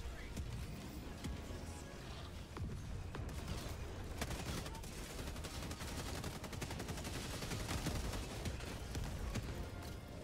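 Gatling gun sentry in a video game firing continuous rapid bursts, a dense, steady rattle of shots lasting the whole stretch over a busy, noisy background.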